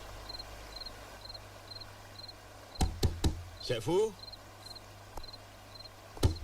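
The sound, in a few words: knocking on a door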